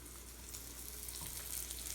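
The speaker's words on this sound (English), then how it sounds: "We're frying zucchini because we didn't want to waste the egg." Zucchini fries in a pan, having been dipped in egg before cooking, giving a steady, close hiss and crackle of sizzling oil that holds level throughout with no voices over it.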